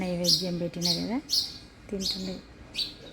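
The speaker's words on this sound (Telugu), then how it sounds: "అది తినుకుంటే ఇక్కడ ధాన్యం ఉందన్నట్టుగా తెలవడానికి కీ కీ అని ఉరింది" House sparrows chirp in short, bright bursts, several quick calls spaced across the moment, while a person speaks at the same time.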